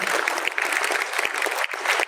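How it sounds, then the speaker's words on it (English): An audience at a prevention showcase theatre performance applauds steadily, a dense sustained clatter of many hands clapping at close range with no voices over it. "Big round of applause."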